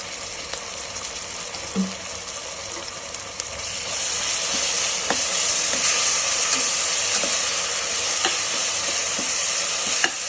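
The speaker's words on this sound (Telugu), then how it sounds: "ఇప్పుడు ఒక 2 స్పూన్లు జింజర్ గార్లిక్ పేస్ట్ వేసుకుందాం" Ginger garlic paste frying in a pan for Andhra-style prawn biryani, a broad hiss that swells louder midway, with occasional light taps of a spoon stirring, close and continuous without speech.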